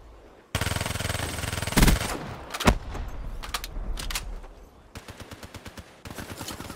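Rapid bursts of BRM rifle fire in the game Call of Duty Black Ops 3, loud and close during a Hardpoint match, with sharp single shots and then a fast, evenly spaced automatic volley near the end.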